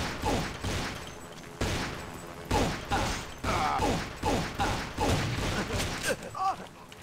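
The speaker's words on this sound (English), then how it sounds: "Who's shooting?" Gunfire in the video game Vampire: The Masquerade – Bloodlines, with sharp shots cracking out in repeated bursts over several seconds at close range. The shots are loud and irregularly spaced.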